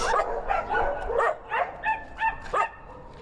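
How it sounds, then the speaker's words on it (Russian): Several dogs bark in quick bursts at a stray dog shelter in Astana, sharp overlapping woofs and yips up close, followed by a few shorter, higher yelps. "В столичном приюте для бродячих собак сейчас горячая пора."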